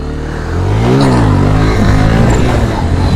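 A Hero Splendor motorcycle revs hard for a wheelie, its engine note climbing and swelling loud and close before settling into a steady, strained roar.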